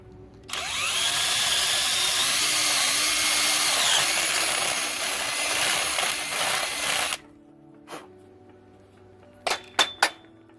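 A power drill bores a hole through wood for a carpenter bee trap, a loud continuous whine for about six and a half seconds that stops abruptly, followed by a few short clicks and knocks, with no talk.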